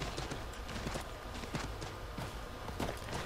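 Horse hooves clip-clop in a steady walking rhythm while riding through the crowded town streets of Assassin's Creed 3, the repeated thuds fairly close over a busy background murmur.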